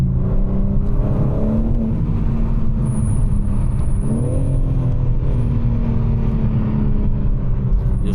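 A 2024 BMW M4 Competition on a night drive, its exhaust droning loud and continuous from inside the car, with engine pitch rising and shifting as it accelerates, no talk.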